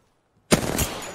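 A sudden loud burst of automatic gunfire erupts after near silence in the battle royale shooter Apex Legends, rattling close and continuous to the end.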